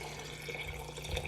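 Filtered well water runs steadily from a kitchen tap, a soft continuous stream heard alone over a brief moment.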